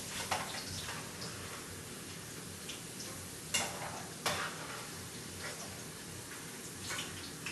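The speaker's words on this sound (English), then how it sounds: "While the oil is heating to fry the fish." Oil heating in a pan before frying fish gives a continuous faint hiss and crackle, with a few sharper ticks and pops scattered throughout, steady and unaccompanied by voices.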